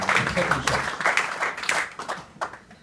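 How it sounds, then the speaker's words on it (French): Audience applause at a dinner debate in Paris, a steady patter of many hands clapping from the room, fairly close and sustained, tapering slightly toward the end with some crowd murmur mixed in. "J'aimerais qu'on les applaudisse même ici à ce moment-là."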